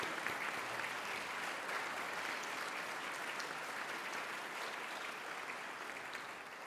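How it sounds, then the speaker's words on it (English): Steady, sustained applause from a graduation audience in Hobart after a valedictory speech, a broad even wash of many hands clapping at moderate distance, slightly fading toward the end. "the applause probably says it all"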